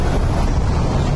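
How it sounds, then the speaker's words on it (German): Stormy wind in the video game Aliens: Colonial Marines, a dense, continuous roaring rush that fills the whole moment without pause. "Ganz schön windig hier."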